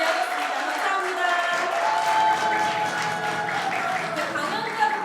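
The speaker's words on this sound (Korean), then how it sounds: "네, 그럼 우리 다시 한번 5명의 강연자분들께 큰 박수 부탁드리고요." A lecture-concert audience claps for five speakers at the end of the event, giving a steady, full wash of applause. It holds evenly for about five seconds with a faint voice underneath.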